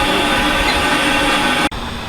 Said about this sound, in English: a beautifully restored narrow-gauge train, now pulls daily the carriages on the newly restored L&B line